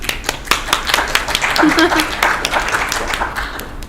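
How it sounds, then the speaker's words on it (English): A small group at a university piano masterclass claps, the individual hand claps distinct and irregular, moderately close, with a few voices murmuring underneath. "let's give Danny a round of applause"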